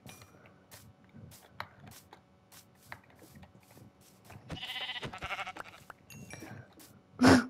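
Sheep bleat in a video game: soft shuffling and clicking first, then a rough bleat run near the middle and one loud, close bleat near the end, with no talking.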